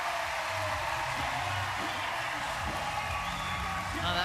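A volleyball crowd at a Nebraska match in Lincoln cheers and roars steadily as the game nears match point, the wash of noise loud throughout with a commentator talking over it.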